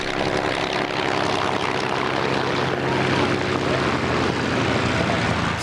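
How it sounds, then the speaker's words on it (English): Warbird propeller aircraft at an air show, engines running as the planes line up: a loud, steady, broadband engine roar with a low droning hum that holds constant throughout, with no pauses. "you want to hear the sound of these aircraft"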